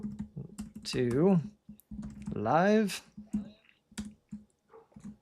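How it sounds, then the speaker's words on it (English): Computer keyboard typing during a live stream, with scattered key clicks between and beneath a man's speech, fairly close and moderately loud. "I'm typing this into the chat."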